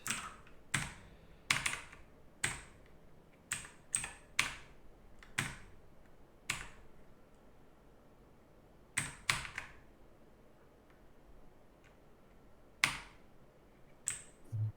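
Sharp, isolated keystrokes on a computer keyboard while writing code for a Unity game, scattered irregular taps and short clusters with pauses between, close and clear in an otherwise quiet room.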